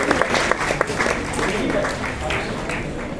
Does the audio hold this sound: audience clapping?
yes